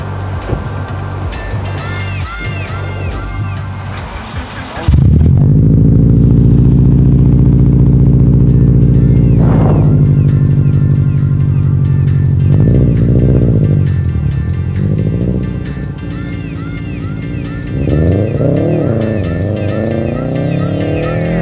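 A Subaru Impreza's engine starts up and settles into a loud, steady idle close by, later rising in revs as the car pulls away for a test drive.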